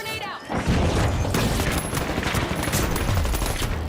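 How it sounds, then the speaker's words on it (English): A glitch grenade goes off in a video game, setting off a loud, sustained crackling burst of explosive, gunfire-like noise that fills the whole stretch. "Glitch grenade out."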